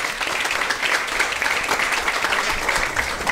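An audience on a live comedy show applauds a contestant from Caracas, Venezuela, a dense, loud, steady wash of clapping throughout with faint voices underneath.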